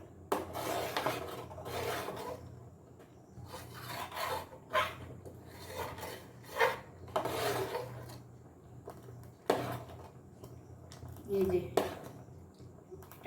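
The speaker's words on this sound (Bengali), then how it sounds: "জোরে নাড়াচ্ছি বন্ধুরা" Ripe mango mixture being stirred vigorously in a pan on a gas stove at home, with repeated scraping, rasping strokes in an uneven rhythm under a person talking.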